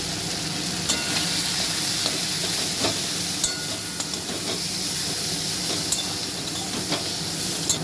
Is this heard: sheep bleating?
no